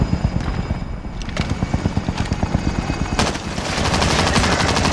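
A helicopter hovers close by in Call of Duty: Warzone, its rotor chopping in a steady rapid pulse while bursts of machine-gun fire crack over it.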